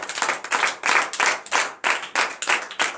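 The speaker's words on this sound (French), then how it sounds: "Donnez l'acclamation au Seigneur" Steady rhythmic clapping by a church congregation in acclamation during a night worship service in Benin, hands striking together in a quick even beat throughout, loud and close.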